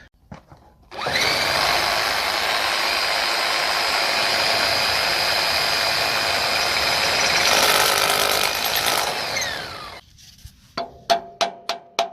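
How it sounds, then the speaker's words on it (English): A power drill whines loudly and steadily for about nine seconds while drilling holes to install a farm feed silo, then stops; a few sharp taps follow at the end. "Right, let's start drilling some holes."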